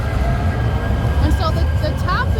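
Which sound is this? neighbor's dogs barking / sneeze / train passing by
train passing by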